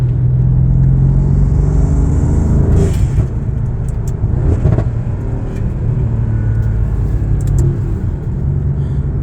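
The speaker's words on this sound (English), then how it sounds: "part of what I love about this car is the sounds" A 2023 Mercedes-Benz C63 S AMG with a twin-turbo four-cylinder engine rumbles loudly and close, its revs swelling and easing over a continuous deep drone, with no one talking.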